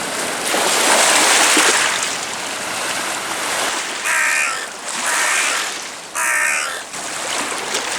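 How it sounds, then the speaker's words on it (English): Crow cawing loudly and close on a riverside foreshore, a few separate harsh calls over a steady rush of water and waves. "There's my little crow friend, come for his breakfast."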